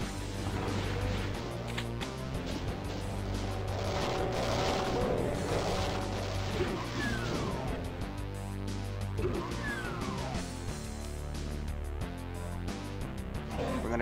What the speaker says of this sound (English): Chain gun action.